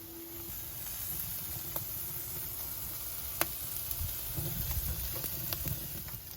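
Steaks sizzle over a live grill fire, a steady, close crackling hiss with faint pops running throughout, no voices.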